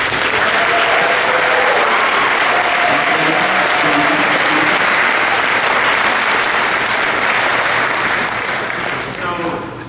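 A large crowd at an awards ceremony applauds steadily and loudly, with dense, continuous clapping that stays strong throughout and tapers slightly near the end.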